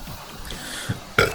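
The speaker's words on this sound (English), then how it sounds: "Great to have a hiccups on the very first episode." A person hiccups twice, a small catch followed by a sharper, louder gulping hiccup close to the microphone over a quiet background.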